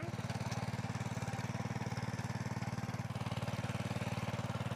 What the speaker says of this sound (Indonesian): traktor itu jalan